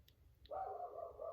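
A single dog barks once in the background of a home, a short muffled bark that rings on for about a second, faint and somewhat distant.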